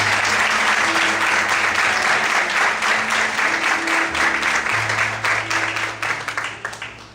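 Loud, sustained applause from a church congregation, dense clapping that holds steady for several seconds and then thins and tapers toward the end, with some voices mixed in.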